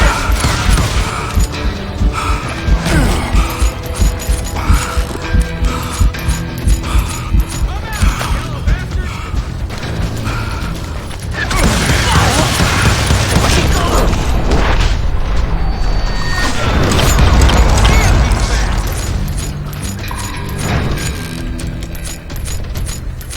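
Gunfire in the Western shooter game Call of Juarez Gunslinger rings out as rapid, loud, repeated shots and booming blasts layered over game music and clatter, with a spoken voice heard amid the fighting.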